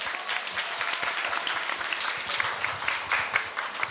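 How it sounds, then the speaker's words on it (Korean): An audience at a Korea University speech contest for students applauds a middle-school contestant being introduced, a full, steady round of many hands clapping that fills the room for several seconds. "큰 박수 부탁드립니다."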